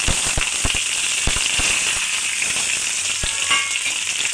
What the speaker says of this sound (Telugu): పోపులన్నీ ఆయిల్లో వేసుకోవాలి.